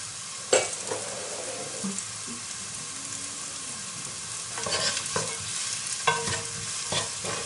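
Onion and bell pepper sautéing in a pan for a seafood and vegetable rice dish, a soft steady sizzle broken by occasional clacks and scrapes of a utensil stirring against the pan.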